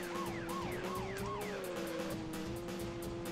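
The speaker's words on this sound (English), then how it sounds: "You hear the freaking siren, man" A police siren in the video game Turbo OutRun yelps in quick repeating sweeps, then settles into a steady wail over a constant engine drone.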